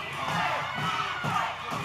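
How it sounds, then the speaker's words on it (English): A split crowd at a live steel cage wrestling match chants in loud, rhythmic surges, a dense mass of voices filling the arena without pause. "You're hearing chants of DJ, chants of Kal."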